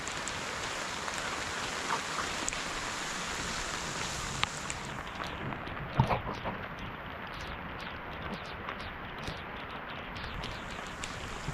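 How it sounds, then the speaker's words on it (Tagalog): Rain pours steadily over a sweet potato field, a dense even hiss with a few sharper drops, outdoors and without speech. "umulan na yun eh"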